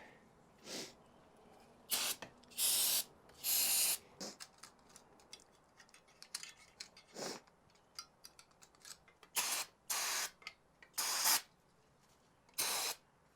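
Short bursts of carb and choke cleaner spray hit oily, chain-greased motorcycle parts around the front sprocket and shift lever of a CRF450L, about seven separate hisses of varying length spread through an otherwise quiet workshop.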